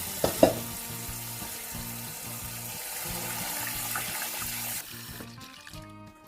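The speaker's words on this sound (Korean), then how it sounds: "잘 제거해 주시고요. 물에 흔들어서 건져줍니다." Fresh oysters being shaken and rinsed in a basin of water to remove shell fragments, giving a steady splashing wash with a couple of sharp knocks at the start and a drop in the sloshing near the end.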